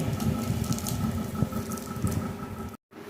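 Water is added a little at a time to softened palm fruit pulp in a bowl, making a steady, close trickling and sloshing sound that cuts off briefly near the end.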